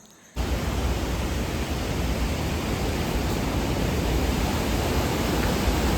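Napne waterfall, a broad, constant roar of falling water that begins abruptly after a brief quiet moment and then holds steady and loud throughout.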